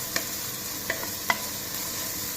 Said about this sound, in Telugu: ఇవి మంచిగా బ్రౌన్గా వేగాలి.